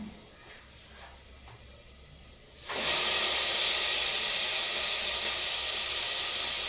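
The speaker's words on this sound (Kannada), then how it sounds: "ಇವಾಗ ನಾನು ತೊಳೆದಿಟ್ಟಿರೋಂಥ ಮಟನ್ ಹಾಕ್ತಾ ಇದ್ದೀನಿ" Washed mutton dropped into a pan of frying onions, breaking into a sudden loud, sustained sizzle after a quieter opening.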